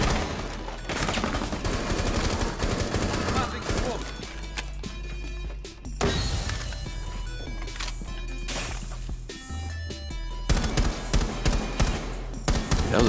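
Rapid gunfire bursts in Rainbow Six Siege, dense and loud, with short pauses and players talking over the shooting.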